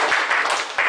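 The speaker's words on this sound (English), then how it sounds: "Let's give a clap offering to God." A church congregation gives a brief burst of clapping as an offering to God, a dense patter of many hands that swells, dips and picks up again within a second.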